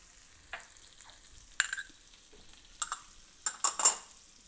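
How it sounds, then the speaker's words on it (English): Green pepper, ham and red onion stirred in butter in a pan, a few scraping stirs and soft sizzles, close and fairly quiet, with sharper clinks of the utensil against the pan near the end. "So we'll just stir that around till the vegetables soften."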